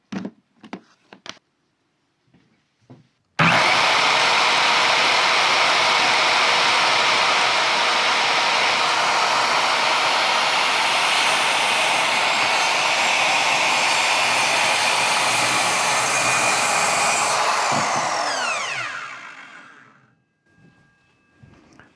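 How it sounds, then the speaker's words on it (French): A circular saw plugged into an electric car charging station outlet runs loudly and steadily for about fourteen seconds, then spins down and dies away, after a few light knocks. "Et on va brancher la scie circulaire ici."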